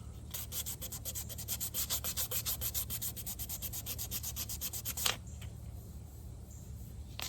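Sandpaper worked by hand over a wheel rim gives rapid, rhythmic back-and-forth scratching strokes for about five seconds, then stops, leaving quiet background.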